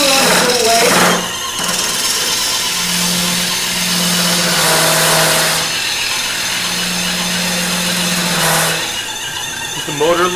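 A small wood lathe with a loose motor pulling on its belt runs with a steady low hum and broadband rattle, rising in spurts, under talk nearby.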